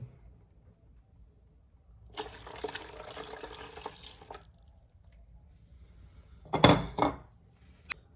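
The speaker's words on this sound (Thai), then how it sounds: "แล้วก็เติม น้ำส้มสายชูลงไปนะครับ" Vinegar is poured into a pot of dissolved salt brine for pickled corn, making a steady liquid pour for about two seconds, then a brief louder splash and clatter follows.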